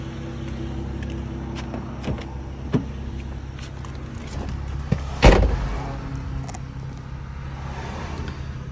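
A BMW 335is with the N54 engine, tuned to 15 psi boost with anti-lag, idles in a steady low drone. A single sharp thump cuts in about halfway through, and no one speaks.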